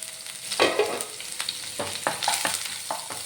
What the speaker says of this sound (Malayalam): ഇനി അതിലേക്ക് ഇഞ്ചിയും വെളുത്തുള്ളിയും കൂടെ ചെറുതായിട്ട് അരിഞ്ഞതാണ് ഒരു ടീസ്പൂണുണ്ട് ഉണ്ട് അതും കൂടെ ചേർത്ത് കൊടുക്കാം